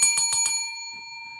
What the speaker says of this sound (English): Ring that bell, baby.